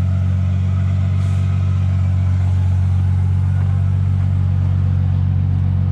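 A race car engine idles and rumbles loudly and steadily as it backs out of a shed, a deep continuous drone with no pauses.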